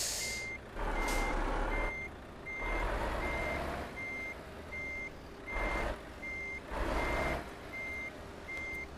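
Repeated reversing alarm beeps from a truck in Euro Truck Simulator 2, set in Spain between Burgos and Santander, pulsing steadily over a loud diesel engine rumble that surges and eases with throttle.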